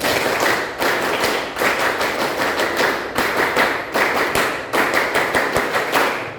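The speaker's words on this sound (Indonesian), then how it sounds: "Oke, 2 kali tepuk pramuka." A group of students at a school outreach session performs the rhythmic Pramuka scout clap twice in a row, a loud, crisp run of synchronized claps repeated in two quick sequences.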